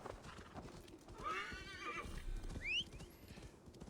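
Horse in the video game Assassin's Creed Valhalla: hooves clopping along at a gallop with a clear whinny partway through, moderately close amid game ambience.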